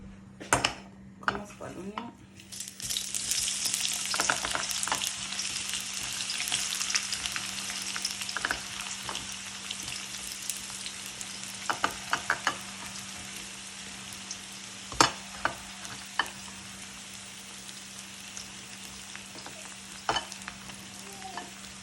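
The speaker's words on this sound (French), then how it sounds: "Je laisse l'oignon cuire un petit peu." Onion frying in heated oil in a pan, a steady bright sizzle that swells after a few seconds, with occasional utensil clinks and scrapes against the pot; no one speaks.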